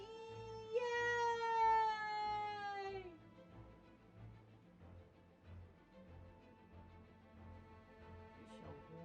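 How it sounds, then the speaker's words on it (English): A domestic cat lets out one long, drawn-out meow close by, sliding down in pitch. It is followed by quiet indoor rumbling and a brief voice near the end. "In the meantime, I shall harass my cat."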